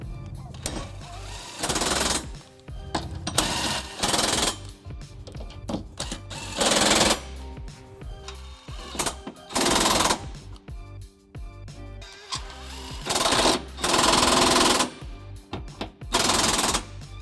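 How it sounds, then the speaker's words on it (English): Bolts snugged up with a 19mm socket during a trailer hitch install on a 2003 Pontiac Vibe, heard as repeated loud, rattling bursts of a power driver, each a second or two long, separated by short pauses. "I'm just going to snug these up with a 19mm socket before we get them ready for a final torque."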